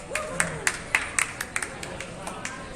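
Crowd at a squash final clapping in scattered, uneven bursts of applause, about a dozen sharp claps over a low murmur of background chatter in an indoor venue.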